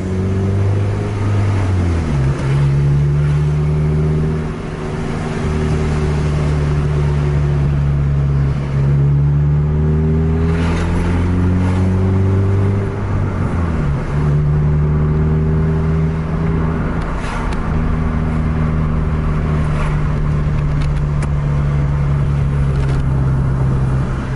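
A bus with a Scania K-410 racing on a road, its engine droning loudly and steadily with rising and falling revs as it accelerates and shifts, continuous and close throughout.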